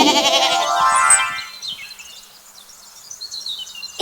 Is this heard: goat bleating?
yes